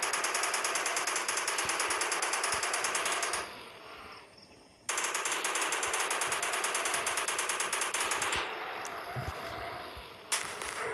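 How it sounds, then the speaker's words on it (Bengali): Rapid, continuous machine-gun fire in a video game aimed at attacking dinosaurs, loud and near, in long sustained bursts with a brief pause partway through and a slight drop in level toward the end. "সবগুলোকে শেষ করে মেশিন গান দিয়ে দিই।"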